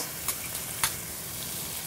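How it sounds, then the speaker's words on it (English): Onions and peppers hiss and sizzle steadily in a hot skillet, a close, constant crackle with a couple of brief louder pops. "Here it's sizzling, nice and hot."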